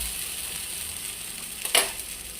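Idli batter balls frying in a nonstick paniyaram pan, a steady faint sizzle throughout with one brief louder crackling burst near the end, no voices.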